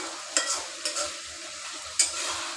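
Fish frying with Malabar spinach crackles and sizzles in a pan, with a few sharp stirring clacks over the steady hiss.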